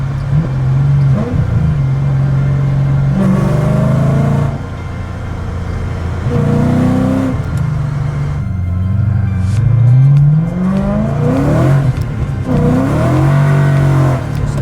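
A V8-swapped BMW E30 accelerates hard and spins its tires, the engine note rising and falling through repeated bursts of revving, loud and close, with no voices.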